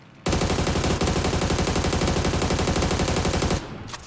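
Sustained automatic gunfire from a first-person shooter video game, a dense rapid burst of loud shots lasting over three seconds before cutting off abruptly.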